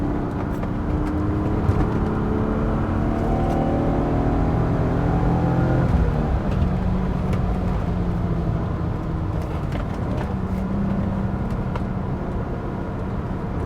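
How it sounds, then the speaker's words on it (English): A BMW E36 328i engine pulls in third gear from around 2000 RPM, a steady, smooth drone that rises gradually in pitch, heard from inside the car with no talking. "2000 RPM, third gear. It has the torque and it pulls beautifully, cleanly."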